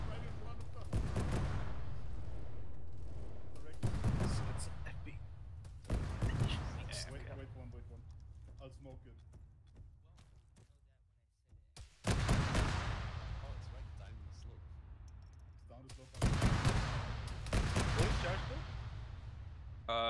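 Heavy gunfire aimed at a tank in the video game Arma 3 booms in repeated loud bursts, with deep rumbling reports spaced every few seconds and people talking between the shots.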